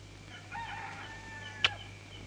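A rooster crows in the distance at dawn, one drawn-out, faint call followed by a sharp nearby clack, over a low steady hum.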